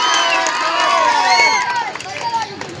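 A crowd at a road inauguration event cheers and shouts in welcome, a loud dense roar of many voices with whistles rising steadily and then thinning toward the end.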